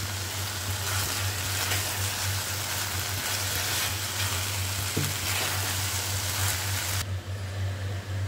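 Fish head curry (muri ghonto) sizzling and being stirred in a pan, a steady loud frying hiss over a constant low hum, cutting off sharply near the end.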